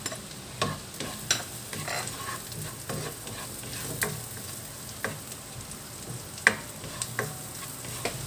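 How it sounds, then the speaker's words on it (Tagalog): Garlic and onion sauté in melted butter in a pan, a steady soft sizzle broken by occasional sharp clicks and scrapes of stirring, close and fairly quiet with no talk. "Pag nag-melt na yung ating butter, lagay na natin yung ating bawang."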